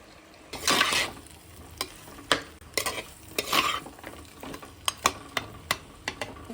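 Mutton pieces are stirred and fried in a pan of sizzling masala for Tamil mutton kulambu, with repeated scraping strokes of a spoon over a steady close sizzle.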